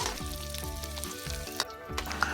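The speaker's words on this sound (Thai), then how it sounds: "ผัดให้มันหืบหืบนิดนึงนะคะ ไม่ต้องสุกมาก" Ingredients for fried rice, with egg, are stir-fried in a pan, giving a continuous sizzle broken by a few spatula scrapes and knocks, close up with no talking.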